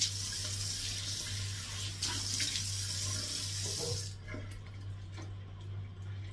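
A bathroom tap runs steadily as someone washes their face, a close continuous stream that softens partway through into lighter splashes and trickling.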